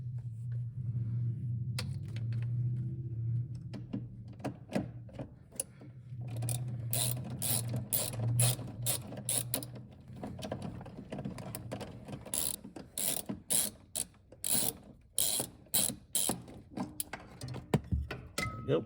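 A ratchet wrench works a 10mm bolt loose from the clutch assembly of a Toyota MR2 Turbo SW20, with rapid clicking bursts of the pawl and short pauses between strokes, close up, after a low mechanical hum early on.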